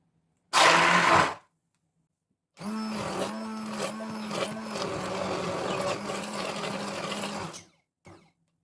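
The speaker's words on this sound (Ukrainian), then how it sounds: "Перебиваю їх блендером, щоб краще вони і швидше зварилися." A blender purees red currants in two bursts, a short pulse and then a longer steady run of several seconds, with a brief buzz at the end.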